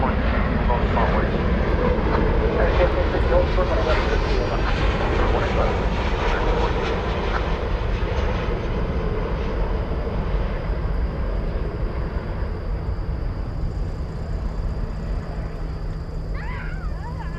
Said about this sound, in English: American 3171 coming in from Bozeman, Montana. 737-800.